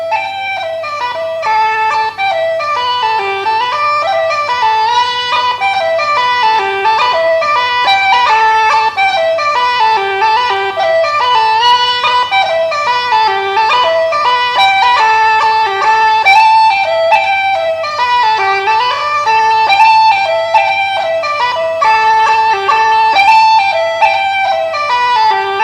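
Uilleann pipes play a lively Cape Breton fiddle tune, a fast, continuous ornamented melody over a steady drone, loud and close throughout with no talking.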